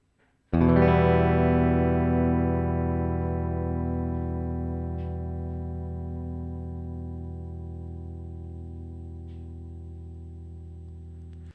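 Electric guitar fitted with a brass nut, played DI straight into an audio interface with no processing: one loud chord struck cleanly and left ringing with long, slowly fading sustain.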